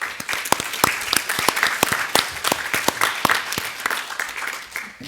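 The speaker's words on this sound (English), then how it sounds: "So let's give those sponsors a round of applause," An audience at an APNIC AGM conference gives a round of applause for sponsors, dense steady clapping from many hands in a large hall, sustained throughout.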